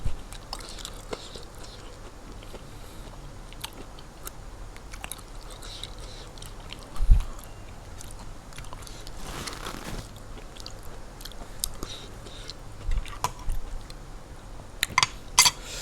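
Someone chewing and eating spicy Thai-style food up close, with intermittent crunchy bites and wet mouth sounds over a quiet background, plus a few sharp clicks near the end.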